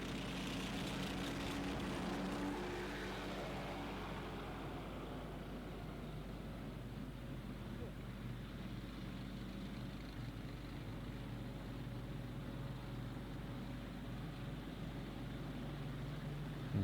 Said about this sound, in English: Especially this tank is loud.